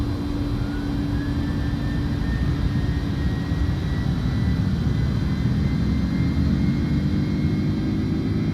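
A simulated aircraft engine holds full throttle in Microsoft Flight Simulator 2024, a steady loud roar with a sustained tonal whine and no break, nobody speaking.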